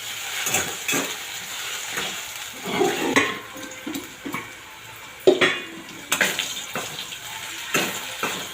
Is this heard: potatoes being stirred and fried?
yes